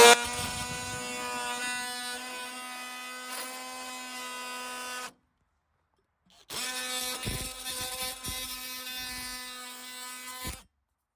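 A power tool whines at a steady, high-pitched speed while cleaning up welds in the corner of a mobile-home window opening, running in two bursts of about five seconds each with a short silent pause between.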